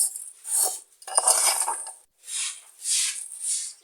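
Vermicelli being stirred as it roasts in ghee in a cooking pot, giving bursts of scraping and clinking against the metal, with short pauses between strokes.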